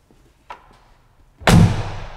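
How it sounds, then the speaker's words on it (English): Rear trunk door of a Mercedes G-Class Brabus G800 swung shut with a heavy, solid slam after a few light clicks of handling, close and alone. "just do like this and then close the door"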